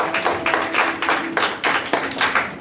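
A church congregation clapping together in praise of the Lord, a loud, close, rhythmic run of about a dozen sharp unison claps at a steady brisk pace.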